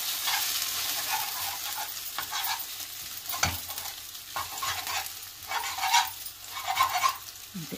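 Egg stirred and fried in a pan for egg noodles, irregular scraping strokes and soft sizzling bursts close by, no talk over it.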